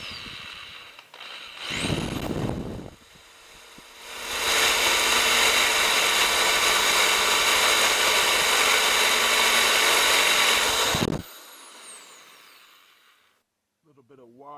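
A cobalt drill bit bores into hard metal on a mud motor exhaust, with a short whir, a pause, then a long, loud, steady grinding drone that cuts off abruptly, followed by quiet handling.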